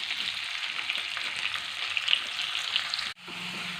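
Chopped onion frying in a pan for butter chicken, with a dense, steady close sizzle that cuts out briefly near the end and then resumes.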